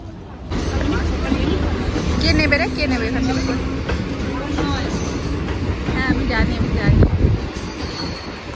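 A train at a railway station, rumbling steadily with squealing wheels and clattering rolling stock close by, a continuous loud wash of rail noise with people talking over it.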